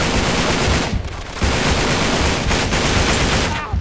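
Dense, loud automatic gunfire in the video game Uncharted, nearly continuous bursts with two brief pauses, alone without talk.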